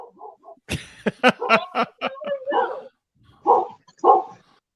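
Several dogs bark in quick, uneven bursts close by, with yips mixed in, then two more separate barks after a short pause.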